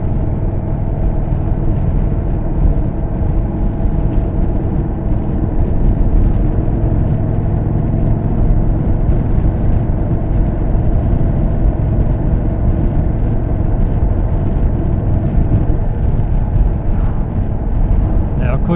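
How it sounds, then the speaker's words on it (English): An Indian Chief motorcycle with a 17.8-inch screen fitted, being run in on the road: a steady engine and road drone rises and falls through the gears at close range, with wind noise throughout. "I want to go through the gears, you know, accelerate, decelerate, brake, because I'm trying to run this thing in."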